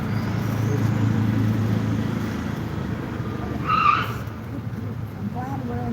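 A car drives outside with a steady engine rumble, then a brief tire squeal near the end as it skids, heard at moderate distance from indoors.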